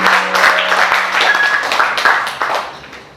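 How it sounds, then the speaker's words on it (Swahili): A church congregation applauds during a Sunday service, with a burst of many hands clapping in a hall that fades toward the end, mixed with some voices. "Tumpigie makofi kwa Yesu."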